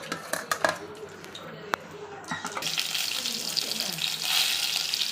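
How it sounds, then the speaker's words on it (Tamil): Mustard seeds and urad dal crackle in hot oil, starting after a few utensil clinks and building into a steady, close, sputtering sizzle. "கடுகு பொரியட்டும்."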